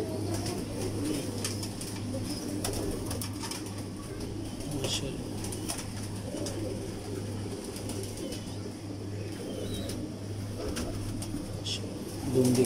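Pigeons, among them balance pigeons, coo in a steady low murmur from a loft at evening, continuous and fairly close, with faint rustling and occasional soft flapping mixed in.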